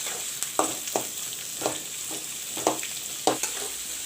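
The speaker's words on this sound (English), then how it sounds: "I will let the onions fry first" Onions and chopped green chilies fry in a pan for egg bhurji, a steady sizzle broken by rhythmic scrapes of a spatula roughly every half second, close up and with no talking.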